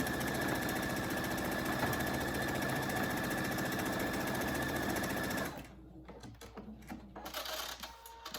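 A sewing machine runs in a fast, close, even mechanical rattle for about five seconds while it stitches a fabric pouch, then stops. Quiet handling noises follow.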